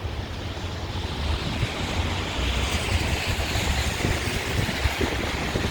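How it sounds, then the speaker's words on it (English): Steady gusting wind and rain sweep along Michigan Avenue in Streeterville, downtown Chicago, on a wet February day, a continuous broadband roar with no voices. "It's a little bit windy as well."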